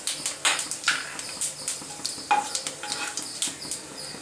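Bay leaf, cinnamon, cloves and fennel frying in hot oil for an omelette gravy give off irregular sharp crackles and spits close by over a low sizzle.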